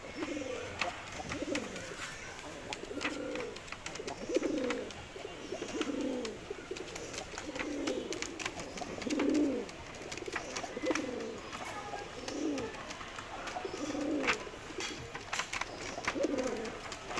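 A male Girbaz pigeon coos in a repeated series of low, throaty rolling calls at a steady rhythm, close and moderately loud over faint background noise.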